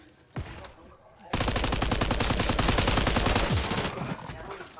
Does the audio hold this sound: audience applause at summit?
no